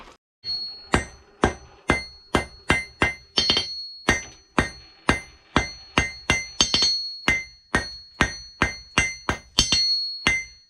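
Steel punch being hammer-forged into an octagon shape: a steady series of about twenty-five sharp, ringing hammer blows, close and loud, evenly paced with brief pauses, with no talking.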